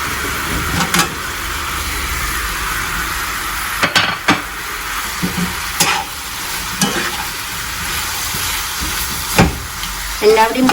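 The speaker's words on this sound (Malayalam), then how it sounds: "ആ ഫ്രൈഡ് ചിക്കൻ ഇതിലിട്ട് നല്ലോണം മിക്സ് ചെയ്യാം" Fried chicken for honey chilli chicken tossed and stirred in a pan, with a low steady sizzle and scattered sharp scrapes and clinks of a spatula against the metal pan throughout.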